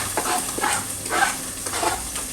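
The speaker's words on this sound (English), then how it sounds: "now my oil is hot. It's hot, so I'm going to add in my vegetables now in my oil" Vegetables hit hot oil in a cooking pot for a stir fry, making repeated loud sizzling bursts that swell and fade in a steady rhythm, with no talking.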